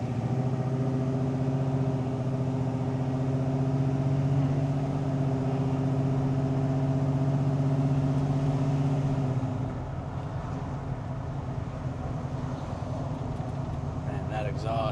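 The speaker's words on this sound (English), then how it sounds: "Man, that exhaust is addicting." Exhaust of a 1968 Chevrolet C10 pickup with a 496ci stroker V8 while driving, a steady deep rumble that drops in pitch near the end, with no talk over it.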